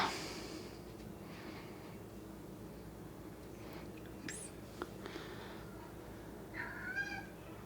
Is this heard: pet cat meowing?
yes